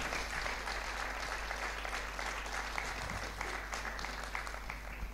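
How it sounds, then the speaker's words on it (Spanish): A church congregation gives a sustained round of applause, a dense, even wash of clapping under a steady low hum, with no break across the few seconds. "Vamos a dar un fuerte aplauso entonces."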